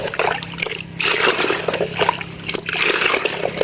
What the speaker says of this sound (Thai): แล้วเพื่อนๆก็ตีน้ำเข้ากันแบบนี้